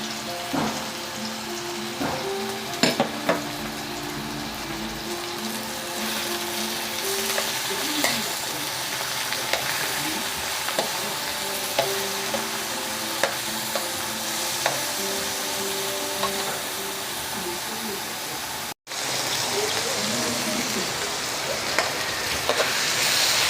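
Chicken pieces frying in a pan for a Filipino vegetable dish, with a dense, steady crackling sizzle close by and occasional scraping stirs, continuous for the whole stretch with one brief dropout near the end.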